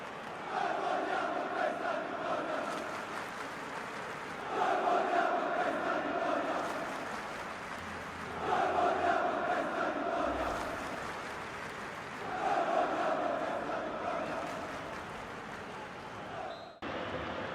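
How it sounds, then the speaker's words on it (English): A stadium crowd in the football video game FIFA 19 roars after a goal, cheering that swells and fades in four long, even surges, loud and continuous with no clear voices over it. "The crowd have gone crazy, and quite rightly so."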